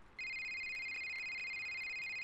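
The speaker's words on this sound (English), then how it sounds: "Hey, someone's calling." A phone rings in The Fear Time video game, a steady electronic tone starting abruptly and continuing loud and unbroken, with faint ticks underneath.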